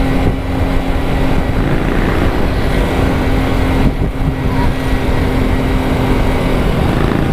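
Kawasaki Rouser 200 RS motorcycle riding through a town in the Philippines, with a loud, steady engine drone and wind rumble running continuously throughout and no speech.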